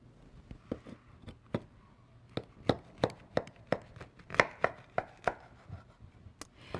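A knife slices through oranges on a cutting board, each cut a sharp, close thud. Roughly a dozen of them come in an uneven rhythm with short pauses, and there is no talking.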